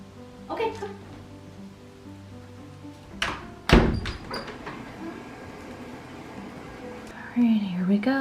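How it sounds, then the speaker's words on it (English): A door shuts indoors with a sharp thunk near the middle, then a few softer knocks and shuffles, while someone whispers and talks quietly before and after. "Can you close the door?"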